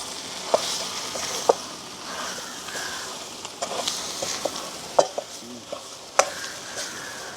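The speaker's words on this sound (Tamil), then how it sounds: "இப்போ நல்ல வடிவாக கலந்து விடுவேன்" A masala with turmeric and salt powder is stirred in a frying pan for a chana dal masala dosa in village cooking. Gentle sizzling runs under repeated scraping spoon strokes and light taps, close and moderate, with no talk.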